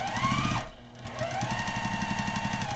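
A sewing machine stitches seams on a small quilted sewing machine mat, running in a steady rapid chatter that briefly pauses and then resumes at an even pace, close and clear.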